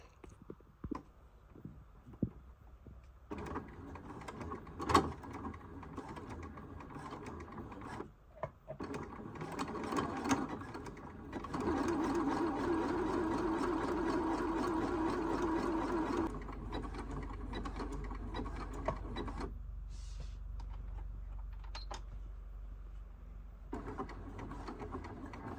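A home sewing machine stitches fabric for upcycled clothing, running in a steady mechanical whir for several seconds between shorter bursts and clicks as the needle goes back and forth.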